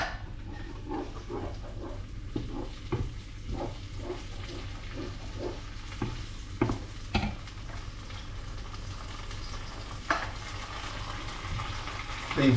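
Chopped tomatoes going into a frying pan with meatballs and being stirred: a low sizzle runs under scattered scraping and clinking of a utensil against the pan, with a few sharper knocks.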